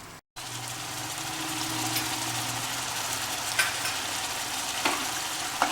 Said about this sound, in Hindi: इसको बढ़िया भून रहा हूं मैं। कीमा कलेजी जो है,